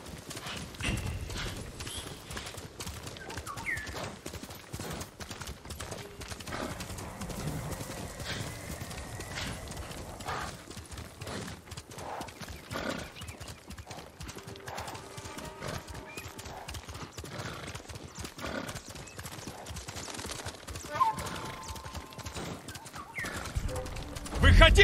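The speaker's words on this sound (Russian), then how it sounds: "Ты славный конь, Кага." A horse in Ghost of Tsushima, steady clip-clop of hooves at a gallop with occasional neighs, a voice talking faintly underneath.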